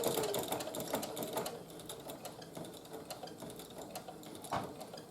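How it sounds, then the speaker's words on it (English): A sewing machine stitches slowly through a quilt-as-you-go table runner, a soft continuous mechanical whir with faint rhythmic ticking. One brief thump sounds near the end, and the whole thing stays quiet. "I'm going to stop sewing about a 1/4 inch from my bottom"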